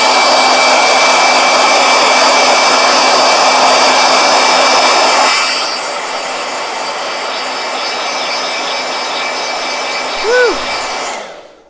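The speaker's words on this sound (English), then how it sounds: "Yes, the blow dryer is so he can paint faster layers." A loud, close hair dryer blows with a steady whooshing roar, dropping to a lower setting partway through before cutting off near the end, used to dry paint layers on a journal page.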